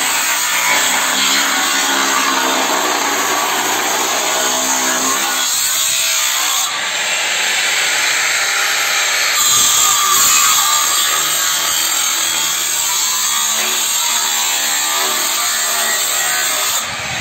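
A cutting tool slicing through the steel chassis of a Ford F250 4x4 truck, a loud continuous harsh grinding roar held steady throughout with slight shifts in pitch and load, no voices over it.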